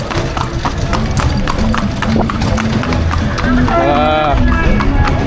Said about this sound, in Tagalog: Masarap pala magsakay sa kabayo. Sa kalesa pala,